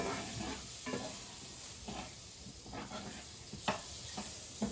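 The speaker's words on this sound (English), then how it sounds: "just melting that butter in with the pancetta that's in there" Butter melting and sizzling with chunks of pancetta in a pan, a steady close frying hiss with occasional stirring scrapes and pops.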